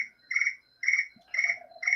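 Crickets chirping at night, clear repeated trilling pulses about every half second, close and loud against an otherwise quiet background.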